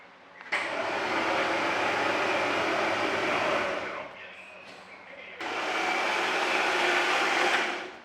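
A Rallye Golf's engine cranks on the starter in two long bursts, a steady whirring drone that stops briefly between them, close and loud, without catching.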